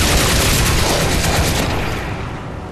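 Heavy-ammo weapon fire in the shooter game Crysis 2, a dense, loud, sustained roar of rapid shots and booms that begins to fade toward the end.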